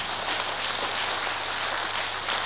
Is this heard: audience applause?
yes